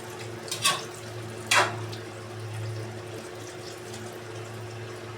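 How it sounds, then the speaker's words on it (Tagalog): Water from a tap or jug runs steadily into a cooking pot of food that is still hard, a soft continuous pour over a low hum, with two brief splashy bursts near the start. "Didagdagan natin ng tubig para lumambot."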